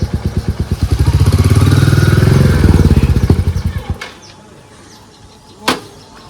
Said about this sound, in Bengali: তাহলে বাইকটা এখানে পার্ক করে দিই